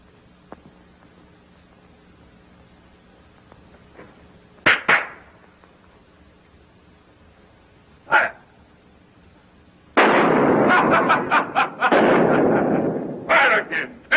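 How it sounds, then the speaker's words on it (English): Sharp, loud gunshots ring out in bursts: a close double shot, a lone crack a few seconds later, then a rapid volley of shots fired in quick succession. "Fire again. Empty your gun."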